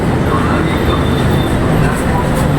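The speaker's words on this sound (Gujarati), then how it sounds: "આપણો આવી ગયો છે મેટ્રો ટ્રેન" A metro train arriving in Mumbai fills the air with a loud, continuous rumble and rushing roar, and faint voices blend into the noise.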